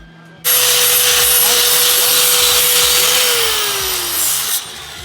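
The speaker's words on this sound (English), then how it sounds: "we are going to weld the diff now" Welding on a truck differential, a loud steady buzzing arc that starts abruptly, holds for about four seconds, then cuts off, close up with no talking.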